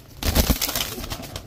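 Flying pigeons, high-flyer breeds kept in a loft, give a short burst of low cooing and bird calls, close and moderately loud, with a busy rustle throughout and no talking.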